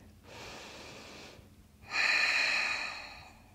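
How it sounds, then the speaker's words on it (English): A yoga practitioner holding a stretch takes two slow, close breaths: a soft airy inhale followed by a louder, longer exhale, with no talk. "And breathe."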